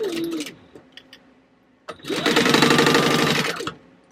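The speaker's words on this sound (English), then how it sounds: "we're going to base stitch around that whole bottom gusset so that it'll become one piece and a whole lot easier to work with" Sewing machine base stitching around the bottom gusset of a trunk, with a long stitch length: a short whir, a pause with light clicks, then a loud steady run of rapid stitching for about two seconds before stopping.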